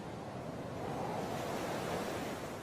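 Ocean waves around Sri Lanka, a soft broadband wash of surf that swells gently and rolls steadily, heard alone without voices.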